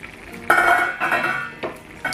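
A metal lid is set onto a pot of egg sauce with tuna, making several clanking, rattling contacts spaced about half a second apart, close and fairly loud, with no voices.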